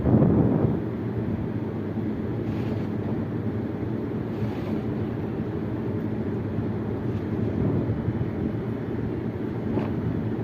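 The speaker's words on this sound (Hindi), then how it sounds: "कितनी तेज हवा चल रही थी" Strong wind blows steadily for about ten seconds, producing continuous low rumbling gusts and microphone buffeting with a louder gust at the start; a flag flapping in the wind is not distinctly audible.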